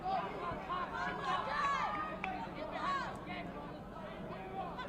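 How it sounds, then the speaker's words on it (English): A high school boys' basketball game crowd murmurs and chatters in a gym, with overlapping voices, shouts and squeaking sneakers under a commentator talking nearby. "And listen to the crowd over here."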